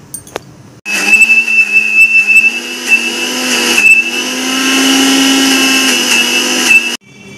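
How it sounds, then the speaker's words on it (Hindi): A kitchen mixer grinder blends chutney with a little water for masala dosa. The motor whirs up loudly, runs steadily for about six seconds with a high whine, then cuts off abruptly. "अब इसको मिक्सी में पीसना है"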